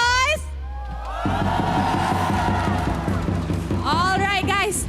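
A live esports arena crowd at a Malaysian Mobile Legends league match roars and cheers for a team, a loud sustained wall of shouting and whoops after a host's rising call, with more excited voices at the end.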